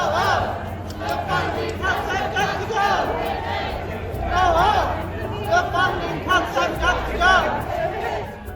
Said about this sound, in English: Chants echo through the streets as the crowd calls for stability in federal programs and criticizes Elon Musk's influence.